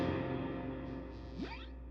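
Electric guitar backbone riff from a song, played through a Line 6 Helix with effects, sustained distorted tones washed in echo and reverb, ending in a rising pitch sweep, loud and alone.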